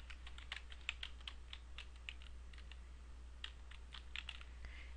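Rapid, irregular clicking of keys on a computer keyboard as a search phrase is typed into a library database, quiet and close, with a steady low hum underneath and no voices.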